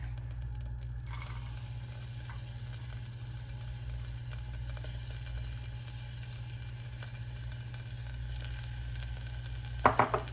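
Chopped garlic and shallot sizzle steadily in a hot pan, a continuous even crackle with a low hum underneath, ending with a few sharp clinks near the close.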